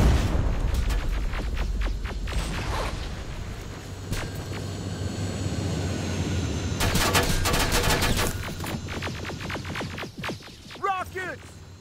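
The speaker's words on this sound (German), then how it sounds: "Oh Leute, ihr müsst schießen." Rapid gunfire and booms from the video game Terminator: Resistance, loud bursts and sustained volleys running nearly throughout over a dense battle din, with players talking over it.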